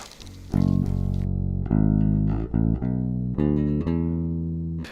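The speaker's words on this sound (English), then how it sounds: "Now there is no amp here, no amp simulation, nothing, just the pure audio of the guitar." Clean, dry electric bass notes played one after another on a single pickup, each ringing and fading, a plucked melody with no amplifier or amp simulation coloring.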